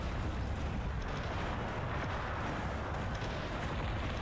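Dense, continuous rumbling barrage of howitzer blasts and crackle in the strategy game Cossacks, loud and sustained throughout with no clear gaps, like heavy artillery fire in a battle.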